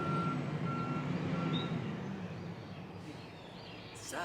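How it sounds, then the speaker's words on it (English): A garbage truck backing up outside in the morning, its reversing alarm beeping in a steady repeating pattern over engine rumble, moderately distant, with faint birdsong and a brief hiss near the end. "a loud garbage truck behind me making a lot of noise."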